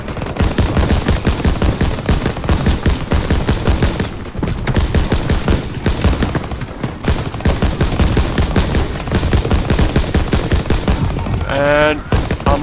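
Mounted machine gun in Call of Duty WW2 firing in long, loud continuous bursts of rapid shots over dense battle noise, with a brief lull midway and other gunfire around it.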